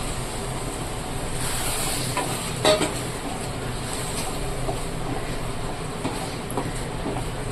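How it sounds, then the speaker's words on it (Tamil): Ground coconut paste poured into a sizzling, simmering jalebi (tilapia) fish curry, giving a steady, dense hiss and bubbling with a few faint stirring knocks; no talking. "இப்போ இந்த தேங்காவை அரைச்சி வச்ச தேங்காய் இப்போ இதில் ஊற்றிடலாம்"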